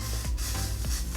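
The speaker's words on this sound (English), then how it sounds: "I want to spray in even strokes." An aerosol adhesive is sprayed onto wig lace from about eight inches away, giving a steady close hiss broken into quick, even strokes. No one talks.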